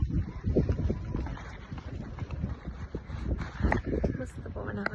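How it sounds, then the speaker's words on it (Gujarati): Cool wind blows outdoors just after rain, rumbling and buffeting steadily against the microphone while people talk nearby. "બહુ મસ્ત પવન આવે છે, ઠંડો ઠંડો"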